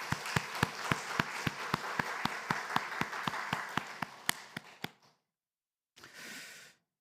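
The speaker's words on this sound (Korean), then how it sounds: "우리 그런 의미에서 우리 함께 박수할까요?" A church congregation at a book-launch thanksgiving service claps in unison, a fast, even rhythm of about twenty sharp hand claps that trails off, followed by a brief murmur.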